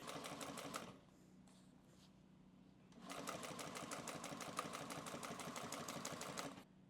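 A sewing machine stitches leather backed with scrim foam in fast, even needle bursts, close and clear, running for about a second, pausing, then running steadily again for several seconds.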